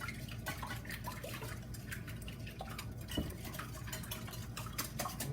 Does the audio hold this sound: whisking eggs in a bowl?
yes